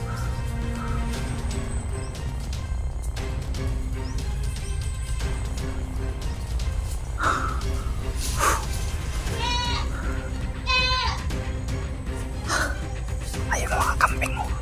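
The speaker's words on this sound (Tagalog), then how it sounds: "Ayun mga kambing mo." Goats bleat repeatedly over about fifteen seconds, several calls standing out near and loud against a busy outdoor background, with quiet speech mixed in.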